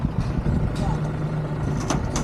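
Second engine of a large fiber boat (double-engine taksay) running steadily nearby, a low continuous drone with a constant hum, with people talking over it throughout.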